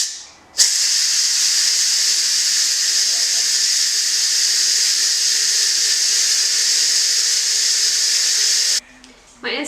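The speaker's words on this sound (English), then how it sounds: "My Instant Pot is now done releasing pressure" An Instant Pot pressure cooker venting pressure: a loud, steady, high hiss of steam that starts abruptly and runs unbroken for about eight seconds, then cuts off, with a faint voice near the end.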